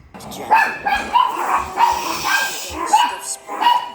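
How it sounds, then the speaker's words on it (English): Several dogs bark and yip repeatedly in an excited, uneven rhythm, loud and close indoors, with some whimpering between barks and faint background sound. "Sorry about my dogs."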